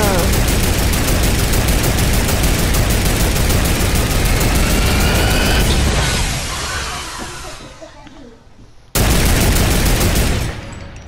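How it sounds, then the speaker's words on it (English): Gunfire from a turret sniper in Fortnite, sustained loud rapid shooting with engine-like rumble that fades out, then a short loud burst returns near the end. "I'm gonna kill you with my turret sniper"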